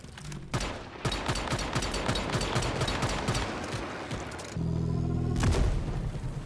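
Rapid gunfire against a boss in the survival shooter Once Human, dense bursts of shots rattling continuously for several seconds, loud and near, with a short lull before firing resumes.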